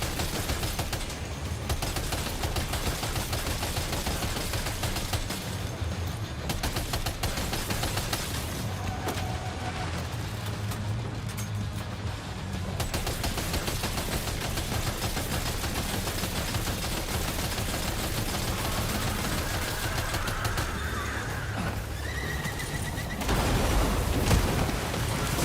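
Gunfire in a video game: dense, sustained bursts of rapid shooting fill the scene continuously, loud and close, with a heavier crack near the end.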